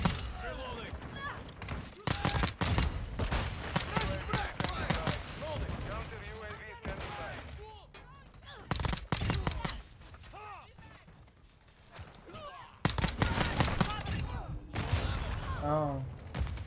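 Gunfire in a first-person shooter video game: rapid bursts of automatic fire and heavy shotgun blasts recur loud and close throughout, mixed with mechanical clatter and game chatter, with voices talking over the action.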